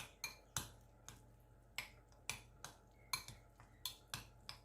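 A spoon clinks and scrapes against a bowl while stirring red pesto, garlic and feta, with about a dozen sharp taps in a quick, uneven rhythm, close and fairly quiet.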